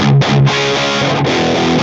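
Distorted electric guitar played through a Mesa Boogie Mark VII amplifier, a short, loud, saturated chord passage with sustained notes and brief pauses, heard up close with no talking.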